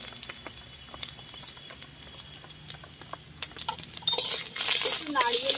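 A spoon stirring spices in a pan while cooking, with light scraping and clinking taps scattered through, brightening into a busier rasp near the end, with some faint background noise.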